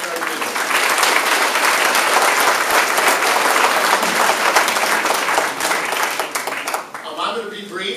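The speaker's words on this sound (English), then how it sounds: "let's just have a round of applause for our candidates and our leaders" Audience at a hall of fame induction ceremony breaks into loud, sustained applause, dense clapping from a crowd that continues for several seconds before beginning to thin out near the end.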